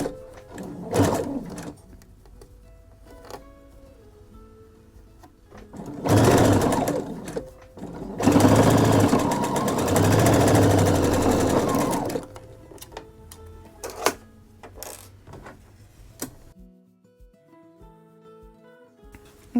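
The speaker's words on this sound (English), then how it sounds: "And then I'm going to sew this with a 1/4 inch seam allowance." Sewing machine stitching a quilt seam with a 1/4 inch allowance on a star project bag, running in several loud bursts of rapid needle whir separated by quieter pauses and small clicks.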